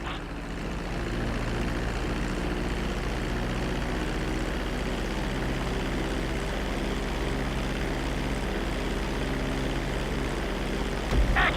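A propeller airplane's engines drone in Grand Theft Auto V as it approaches to land on a runway: a steady, loud, rumbling hum with a buzzing harmonic tone throughout, no talk.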